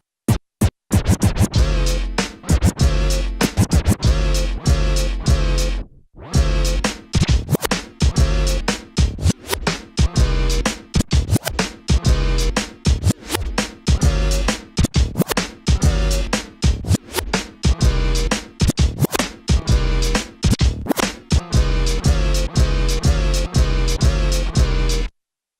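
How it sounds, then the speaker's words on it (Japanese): Two turntables are beat-juggled by a DJ, chopping a simple kick-and-snare drum pattern into a choppy, syncopated beat with sharp cuts, brief scratches and a short gap early on, loud and up front throughout. "普通にドンツタンっていう感じのドラムパターンからドンタンドドンドタンみたいな感じのビートにすることができるんですね"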